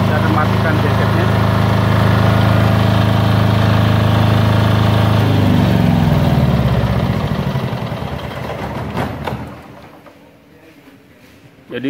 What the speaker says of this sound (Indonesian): saya akan matikan gensetnya